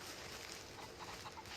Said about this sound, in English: I'm trying to follow the sound of the chickens.